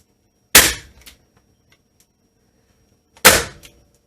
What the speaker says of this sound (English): push your staple gun nice and strong, because sometimes if it's not, it doesn't go through